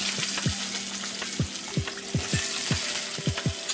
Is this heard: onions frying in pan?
yes